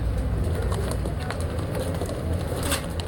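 Pigeons coo in a dense, overlapping chorus inside a loft, a steady low throaty murmur from many birds with occasional wing flutters and clatters close by.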